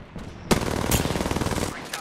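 Automatic gunfire rattles in a rapid, close burst lasting over a second in a battle-royale-style video game, opening with a sharp shot, with little talk over it.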